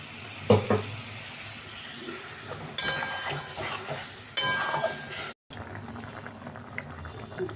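Dhoka cakes dropped into a pan of hot liquid with added water, a bubbling, sizzling simmer punctuated by three louder splashes as pieces go in.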